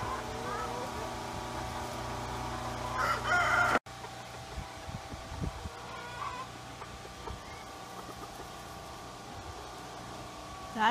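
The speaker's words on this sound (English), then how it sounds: "Some chickens dust bathing and going under a building, which happens to be a chicken house." Farm chickens clucking around a chicken house as they dust bathe, with a rooster crowing loudly near the start over a steady engine drone, then scattered close clucks and low talk.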